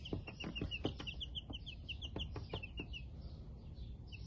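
Young Black and Buff Minorca chicks peep and cheep rapidly in a high, busy chorus, with soft clucking and scratching sounds underneath, close by.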